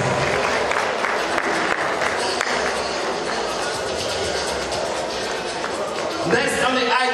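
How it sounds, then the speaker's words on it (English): Applause from guests at a 50th birthday celebration, a steady moderate clatter of clapping throughout, with talk and background noise mixed in. "A hand of applause for them,"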